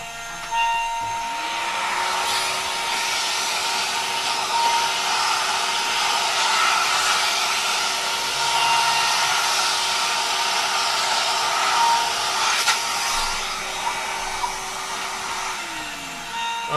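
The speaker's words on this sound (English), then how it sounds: "I'm going to just hoover that pocket out." A vacuum cleaner hoovers debris out of a freshly milled pocket on a CNC-cut part, its steady whine running loud and unbroken for most of the stretch, starting up near the beginning and winding down near the end.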